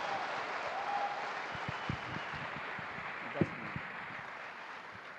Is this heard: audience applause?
yes